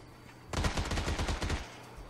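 Gunfire in PUBG on the snowy Vikendi map: a quick burst of about eight evenly spaced automatic shots, close and punchy, then a brief fading tail.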